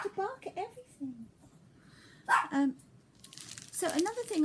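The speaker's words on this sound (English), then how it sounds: "You don't have to bark at everything." Small pet dogs bark indoors in a few short bursts, mixed with someone speaking nearby and some paper or fabric crinkling.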